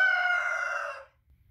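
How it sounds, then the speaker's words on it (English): A chicken gives one loud, drawn-out crow close by, lasting about a second, followed by near silence. "these are the chickens."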